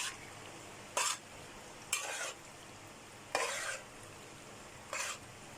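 Cheesy cream sauce being mixed into pasta in a pan, with four separate bursts of scraping and stirring at roughly even intervals and quiet pauses between them, close up and clear with no talking.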